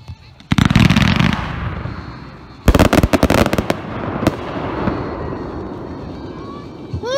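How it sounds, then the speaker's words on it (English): Red, white and blue finale box of consumer fireworks firing twelve shots in about five seconds: loud sharp launch thumps and bursts in quick clusters, a crackling volley, then trailing crackle and distant pops. "This is a finale box, red, white, and blue."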